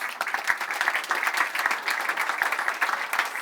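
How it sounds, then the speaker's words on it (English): A small audience at a startup and venture talk claps briefly, a quiet patter of scattered hands that continues evenly for a few seconds. "let's do a clap first."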